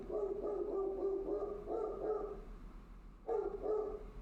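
A pet dog barks repeatedly indoors in short bursts, with a pause before a final run of barks, fairly close and loud.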